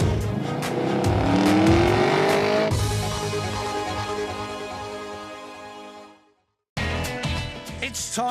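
Ford Mustang and Chevrolet Camaro muscle cars launch in a drag race, engines roaring loudly as they accelerate hard with climbing pitch and gear changes, then a brief silence before the loud engine noise resumes.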